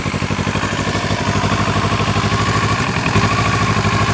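A 2017 Kawasaki Z650 motorcycle with stock exhaust and underbody muffler idles steadily, its fuel-injected engine giving a loud, close, even low rumble with a fast regular pulse throughout.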